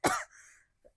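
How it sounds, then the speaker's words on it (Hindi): A single sharp cough bursts out, followed by a breathy tail and a faint short throat sound a moment later; close and fairly loud, no talking. "खांसी आएगी तो"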